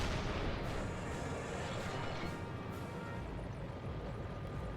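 Heavy tank cannon fire in Resistance: Fall of Man, a dense rumbling barrage of blasts and explosions filling the whole clip, loud and continuous with no talking.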